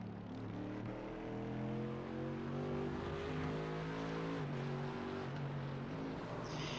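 A Mercedes GT race car engine in a sim racing game at Watkins Glen drones at close range, its pitch climbing and dropping through gear changes, with another car audible nearby.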